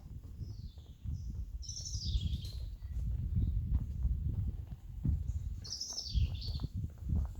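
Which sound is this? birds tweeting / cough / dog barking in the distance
birds tweeting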